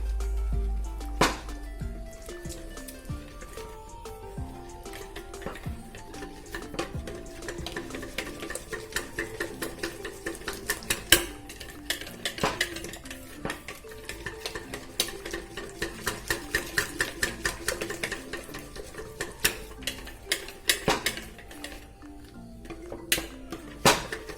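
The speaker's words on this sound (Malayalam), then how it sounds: "ഈ ഒരു വിസ്ക് ഉണ്ടെങ്കിൽ നമുക്ക് ഈസി ആയിട്ട് എല്ലാം നമുക്ക് കട്ടയില്ലാതെ ഇങ്ങനെ മിക്സ് ചെയ്തെടുക്കാൻ പറ്റും" A whisk beats a milk and egg batter for mutta pathiri in a bowl, producing a long run of quick, rhythmic metallic clinks and scrapes, close and steady throughout.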